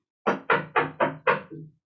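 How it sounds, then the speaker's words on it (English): Six firm knocks land on a door in an even, steady rhythm, each one close and loud, the last a little softer, with no voices over them. "So he knocked on the door again"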